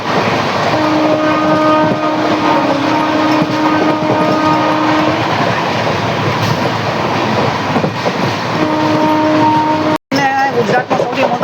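Indore-Veraval Mahamana Express, train 19320, hauled by a WAP-7 electric locomotive, rumbles steadily and loudly close by, with tonal horn-like bands sounding twice and a brief dropout near the end.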